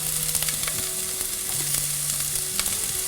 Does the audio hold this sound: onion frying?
yes